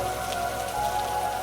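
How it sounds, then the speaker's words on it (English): Steady rain falling on a rain-soaked town, an even, close patter with no pauses and no voices. "There's only the rain now"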